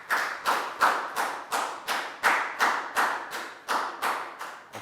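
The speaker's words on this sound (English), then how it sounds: "Big round of applause for Net," Classroom clapping for a student in a Year 4 maths lesson: a run of about a dozen loud, evenly spaced claps in a steady beat, close and sharp, with no talking.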